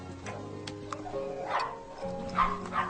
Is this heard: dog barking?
yes